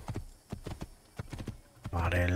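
Horse hooves clip-clop in the Assassin's Creed video game, a steady run of quick hoofbeats in the foreground, followed by a louder tonal burst of game sound at the end.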